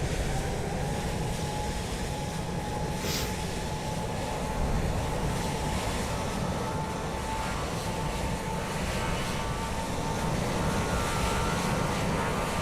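An airliner in Microsoft Flight Simulator 2020 at Lisbon airport gives off a steady, broad engine roar that holds even and continuous throughout, with no voices.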